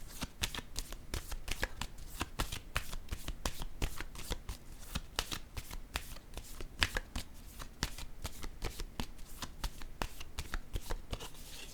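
A deck of playing cards being shuffled over and over, a fast run of crisp riffling snaps and flicks heard close up, steady for the whole stretch with no talk.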